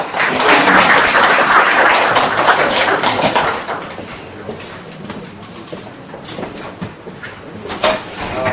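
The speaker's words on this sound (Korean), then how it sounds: "큰 박수를 한번 모실까요?" Audience applause at a seminar on Australian real estate held in Korea, loud dense clapping that swells at first, then thins into scattered claps and fades out.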